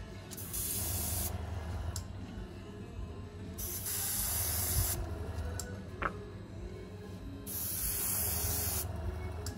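Airbrush-style spray gun misting white cocoa butter into chocolate bonbon moulds, steady hissing bursts in three long passes with short pauses between, close and fairly loud, no talking.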